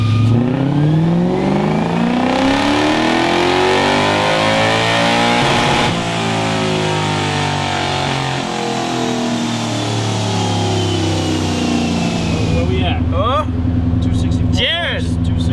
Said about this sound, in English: now that the V8 is running on all 8 cylinders, Dyno Day is back in business, so we're gonna keep tuning it